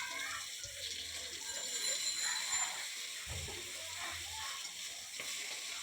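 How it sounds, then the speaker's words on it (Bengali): Pieces of snakehead fish frying lightly in a pan of oil give a steady, moderate sizzle with soft crackles throughout, occasional low clunks of the pan or utensil, and no voices. "আমি মাছগুলোকে ভেজে নেব হালকা করে।"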